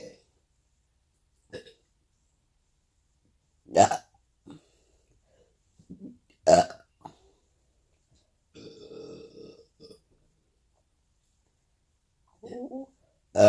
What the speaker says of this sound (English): You got any more burps, girl?